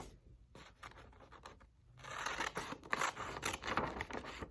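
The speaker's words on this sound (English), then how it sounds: "I'm going to take my scissors, and what I'm going to do is I'm going to cut this piece off." Scissors snip through paper after a quiet start, a run of crisp rasping cuts close by, growing louder and steadier.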